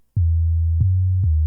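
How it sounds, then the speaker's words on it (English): A pure, low, unmodulated sine tone from the Sytrus synthesizer sounds steadily after a short silence, briefly clicking as it restarts twice, loud and clean with no voices. "So just one sine wave, really."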